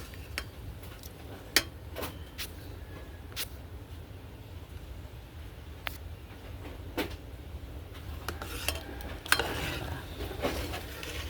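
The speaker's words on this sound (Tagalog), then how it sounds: "Ngayon, haluin natin siya para i-mix natin yung ginisa ko." Sautéed mung bean stew is stirred in a pot, giving scattered clinks and scrapes of a utensil against the metal over a quiet background hum, faint and close, with no talk.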